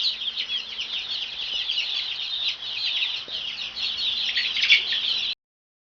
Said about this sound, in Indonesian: Ini adalah anak ayam guys